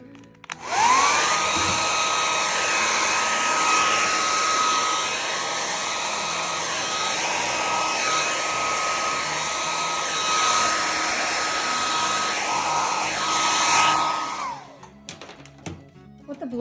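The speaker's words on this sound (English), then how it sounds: "And sometimes a blow dryer helps." A blow dryer runs steadily for about fourteen seconds, drying watercolour paint on a decoupage owl piece, its loud even whine starting and stopping abruptly, with faint movement and rustling underneath.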